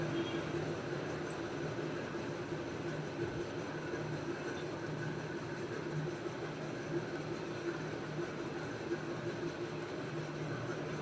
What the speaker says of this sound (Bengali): এই যে একটি স্টেশনে ট্রেন দাঁড়ালো